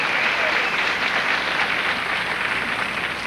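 A studio audience applauds an entertainer on a Nashville TV variety show, dense sustained clapping that stays loud and even from start to finish.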